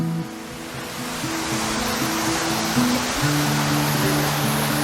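Steady broadband rush of a waterfall on the Sudun stream, continuous and fairly loud and close, with no speech.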